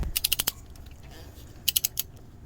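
A 2010 Toyota Camry engine's crankshaft is turned by hand, giving two quick bursts of sharp ratcheting clicks, about five clicks each, separated by a short pause over a low background hum.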